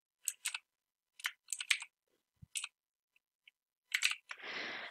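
Short bursts of crisp, close clicks on a computer keyboard as a word is typed, separated by brief pauses, then a softer rustling hiss at the end.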